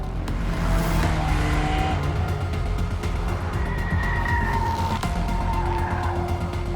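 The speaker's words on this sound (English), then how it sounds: "Eventually, the Ferrari pulled out a bit of a lead." A Ferrari races around the Donington circuit, its engine droning loud and steady with tyres squealing and skidding through the corners.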